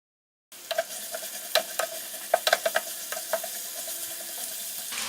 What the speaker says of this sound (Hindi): प्याज को लाइट ब्राउन होने तक फ्राई करेंगे